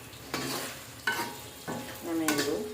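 Vegetable bhaji sizzling in a frying pan, stirred in four separate scraping strokes over a steady close frying hiss, with no voices.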